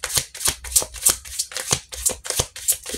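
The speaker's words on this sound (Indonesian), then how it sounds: "kita shuffle kartunya." A deck of tarot cards is shuffled by hand in about eight quick, even riffling bursts, close and crisp, with no talking.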